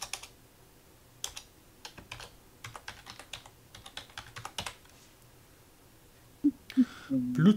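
Keys on a computer keyboard are tapped in short irregular bursts, quiet and close, followed by a few louder clacks near the end.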